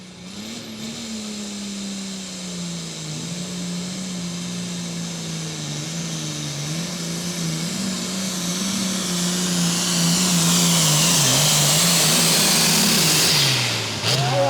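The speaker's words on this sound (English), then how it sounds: "Chris Hawkins out of Wartrace, Tennessee, driving the international tractor called the High-End Harvester" An International tractor roars down the track at a tractor pull in Hillsboro, its engine loud and continuous, pitch wavering and climbing as the run goes on, with a shrill rising whine near the end.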